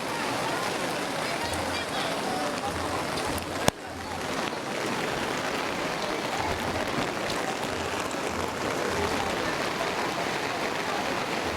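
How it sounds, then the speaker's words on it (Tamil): Heavy rain pours steadily on a crowd at a temple consecration ceremony, a loud continuous roar of falling water with one sharp knock and voices mixed in beneath. "மழைக்கு தான் பயங்கரமாக கொட்டுது"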